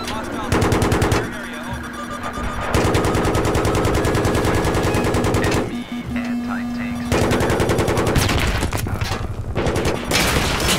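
Door gunner's machine gun on a helicopter in a video game, firing long, loud, rapid bursts over a steady low engine drone, with short breaks between strings of fire.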